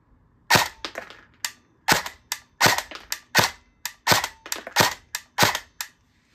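A Colt M4 CQB R airsoft gun fires about fifteen sharp, close snapping shots in a rough, uneven sequence, each with a short decaying tail, with no talking.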